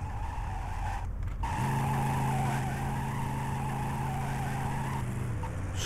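Car tires skid and squeal in Driv3r, a loud sustained screech over a revving engine that shifts pitch midway as the car keeps sliding, with no speech.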